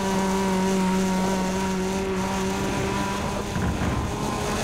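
Engine of a Chevrolet Cobalt SS in the Need for Speed World racing game, a loud sustained tuner-style drone with a steady pitch, holding at high revs throughout.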